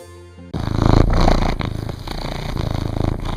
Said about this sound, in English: Purr, Zeusy, purr.